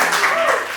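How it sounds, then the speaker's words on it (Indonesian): Hand clapping in a talk-show setting, a brief burst of claps blending into a continuous wash, close and loud. "tepuk tangan dulu ya."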